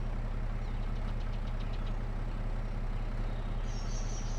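A tractor engine in Farming Simulator 22 runs at a steady, throbbing idle-like drone, loud and close throughout, with a faint chirp near the end and no talking.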